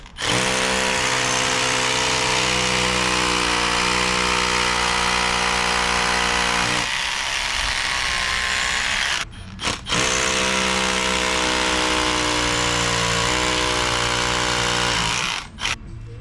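A power drill bores 3/16 pilot holes and drives 1.25-inch Tapcon screws through PVC straps into a house foundation, making loud, close whirring runs of several seconds each with brief pauses between them.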